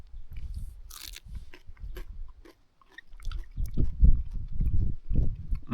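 Raw sea plantain leaves, a long-leaved plantain growing on a beach, crunched and chewed up close in bursts of biting, with a short pause midway and louder chewing afterward.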